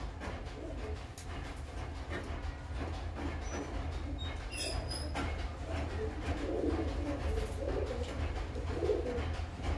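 Breeding high flying pigeons coo softly and steadily in the background, a low continuous murmur over constant ambient noise, with no talking.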